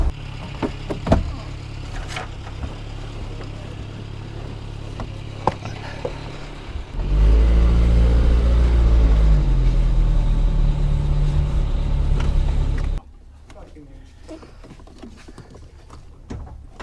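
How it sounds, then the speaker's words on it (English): A 1971 Nissan 240Z, its starter once underwater, is jump started from a small Nissan: scattered clicks and knocks, then a loud low rumble of cranking or running for about six seconds that stops abruptly. "We're going to pull in the old Nissan POW and jump start it from the smallest car you've ever seen."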